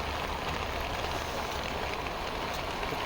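Heavy rain in the Uttarakhand mountains, a dense even hiss of falling water, steady and moderately loud, with no voices.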